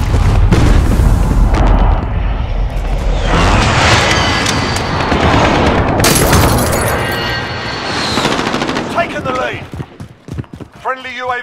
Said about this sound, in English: Be advised, friendly position airstrike in.